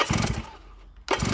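Starter motor on a Stihl TS800 cut-off saw cranking in two short, loud bursts with a brief pause between them.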